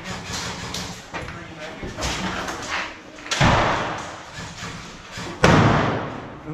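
A door thumps and bangs during an airsoft game in an abandoned asylum, with several dull knocks and a hard slam close by, mixed in with voices talking.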